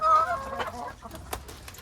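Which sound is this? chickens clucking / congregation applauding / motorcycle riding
chickens clucking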